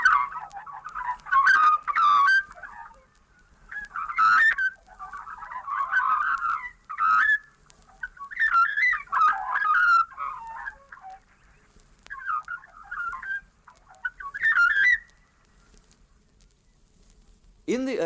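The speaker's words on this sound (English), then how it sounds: "But it's the song of the magpie that somehow captures the spirit of the land." An Australian magpie carols in the bush, warbling and gurgling phrases in several bursts over a quiet background, fairly close and without any talking.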